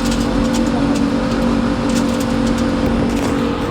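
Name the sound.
car driving past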